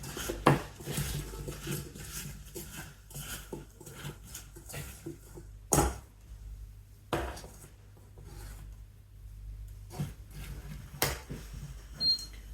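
Utensils scrape and clink against a pan while butter melts over low to medium heat, with intermittent scattered knocks and brushing strokes, fairly close and moderate in level.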